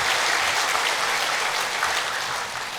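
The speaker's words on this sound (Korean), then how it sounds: "우리 한번 다 같이 큰 박수로서 에베네셀의 하나님께 영광을" A church congregation at a Sunday worship service bursts into a big round of applause, dense and steady throughout, loud and close, with no talk over it.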